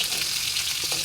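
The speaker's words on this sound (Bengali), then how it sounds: "দেখুন, আমার মাছ ভাজা প্রায় হয়ে এসেছে।" Rohu fish frying in oil in a pan gives off a steady, dense sizzle that runs unbroken and close, with no voices over it.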